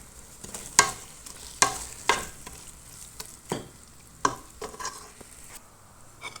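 Mutton biryani masala stirred in a pan, a spoon scraping and clinking against the metal in irregular strokes over a soft background sizzle, close and fairly quiet.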